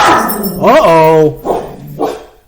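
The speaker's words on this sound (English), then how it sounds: "our dog is waking up" A pet dog waking up indoors during a podcast recording gives a close, loud drawn-out bark that rises into a whine, followed by two shorter barks.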